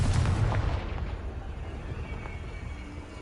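A Confringo fire spell blasts in Hogwarts Legacy on PS5, with a deep, heavy boom right at the start that fades into a low rumbling tail.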